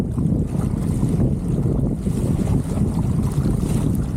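A sailboat under a double-reefed main and a small heavy-weather jib runs down a lake in gusty mountain wind, with steady loud wind buffeting the microphone and water rushing along the hull throughout.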